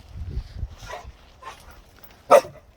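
A dog gives a few short barks and whimpering yips close by, in brief scattered bursts with one sharper yelp near the end.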